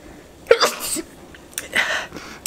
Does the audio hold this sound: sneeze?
yes